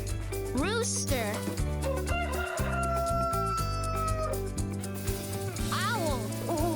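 A rooster crows a drawn-out cock-a-doodle-doo with some clucking around it, layered over a lively backing melody in a children's animal-sounds song.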